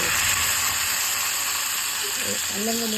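Onions frying in oil in a pan, giving a steady broadband sizzle throughout, with a voice briefly speaking over it near the end.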